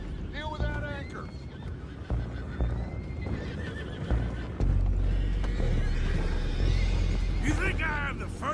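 Horses whinny several times over a steady low rumble, with background music and clopping hooves, in the video game Red Dead Redemption 2; voices are also present.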